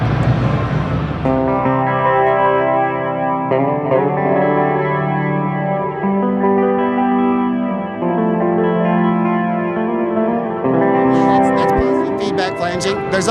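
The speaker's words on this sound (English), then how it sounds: "Here's the delay flange trails." Electric guitar run through a delay flange trails pedal effect, sustained notes and chords swirling with sweeping flanger and repeating echoes, loud and distorted, ending in a bright scratchy flurry.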